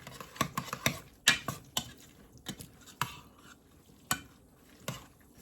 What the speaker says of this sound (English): Now just stir it all up.